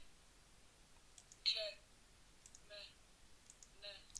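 Soft clicks on a phone or tablet screen in a Te reo Māori learning app, a few faint taps spaced across a few seconds with quiet breathy sounds between them.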